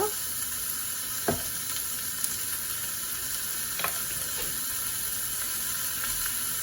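Vegetables sautéing in a pan for a Sri Lankan vegetable sothi, a steady close sizzle broken by a few sharp stirring scrapes.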